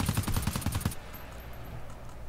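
Automatic turret in the video game GTFO firing a rapid burst of about a dozen loud, close shots in under a second, followed by a fading tail of quieter game ambience.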